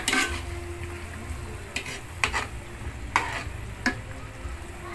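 Meat for chop suey guisado frying in a pan, with a steady sizzle underneath and several sharp scrapes and clinks of a utensil stirring against the pan at irregular intervals, close by and without talk.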